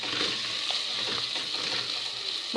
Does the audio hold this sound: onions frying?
yes